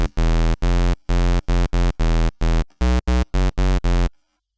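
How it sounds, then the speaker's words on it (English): Loud, buzzy low square-wave synth bass notes from FL Studio's 3XOSC play in a choppy rhythmic sequence of about a dozen hits, harsh and hollow, ending abruptly into silence. "we want to turn them all to square waves"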